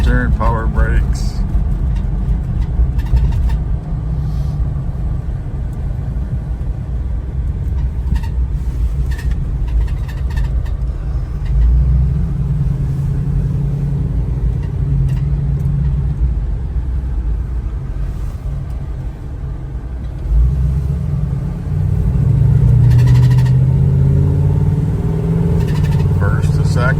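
A 1985 Chevrolet Blazer engine rumbles steadily while driving, rising and dropping in pitch as it shifts up through the gears, with a louder surge near the end.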